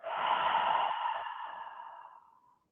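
A long, deep exhale during a breathing exercise: one smooth, breathy whoosh close to the microphone that starts strong and gradually fades over about two seconds, with no talking over it.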